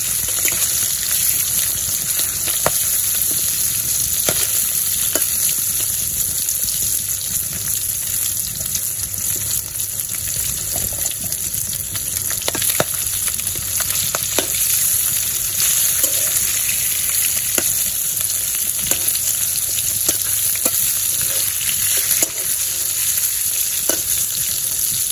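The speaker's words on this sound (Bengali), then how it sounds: "মাছগুলা ভাজতে থাকি।" Pangas fish frying in hot oil in a pan, giving a loud, continuous close-up sizzle with occasional clicks from stirring or turning, with no speech throughout.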